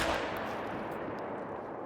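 A single rifle shot fired while hunting nilgai in theHunter: Call of the Wild, a sharp report at the start that trails off into a long fading echo.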